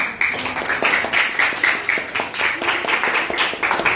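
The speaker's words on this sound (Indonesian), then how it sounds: "Berikan tepuk tangan" Classroom students clapping hands together in a lesson, a busy patter of many overlapping claps lasting throughout, fairly close and steady.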